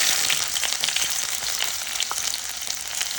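Onion frying in hot oil for corned beef, a steady crackling sizzle with scattered sharp pops, close and continuous throughout with no talking.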